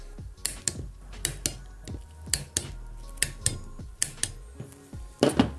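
A torque wrench tightens power meter bolts in a criss-cross pattern on a SRAM crank arm, giving a series of sharp, close mechanical clicks and ratcheting ticks in uneven bursts, with no voices.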